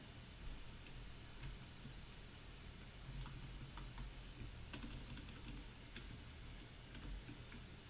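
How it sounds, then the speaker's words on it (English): Computer keyboard keys being typed to enter a git show command, soft scattered clicks sitting under a steady broadband hiss, close but faint. "If we want to see the file in its entirety, we type git show"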